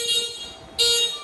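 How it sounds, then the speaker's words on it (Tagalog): A steady electronic horn tone from an electric motorcycle sounds close by, briefly jumping louder and brighter partway through. "Busina."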